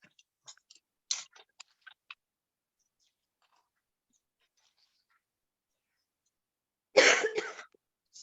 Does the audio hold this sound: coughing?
yes